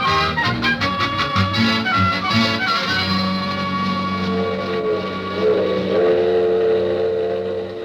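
The Super Chief passenger train pulls out of a station as a radio drama sound effect: rapid rhythmic chuffing at first, giving way to a sustained whistle-like tone over a loud rolling rumble.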